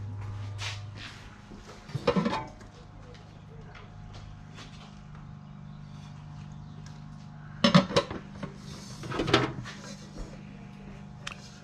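Pans handled at an outdoor garage sale, a few clanking metal knocks and clatters scattered between quieter stretches, with people talking nearby throughout.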